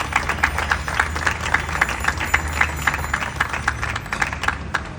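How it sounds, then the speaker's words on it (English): A press-conference audience in Philadelphia claps for Vision Zero groups, a dense round of applause from a moderate crowd with rapid, overlapping hand claps sustained at an even level from start to finish. "Give each of those constituencies a round of applause."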